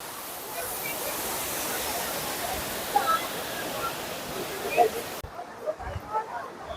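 Athirappilly waterfall, running with low water, makes a continuous broadband rush that stays loud and even, with people talking over it and a brief drop in level near the end.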